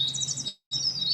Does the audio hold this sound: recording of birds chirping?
yes